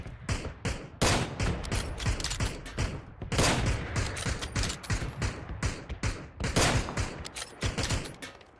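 Rapid bursts of gunfire in PUBG crack over and over, some shots close and sharp, others overlapping in dense volleys with brief gaps between.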